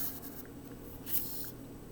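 A pencil traces a line along a ruler on paper, giving faint, soft scratchy strokes in a few short bursts over a quiet background, close and alone.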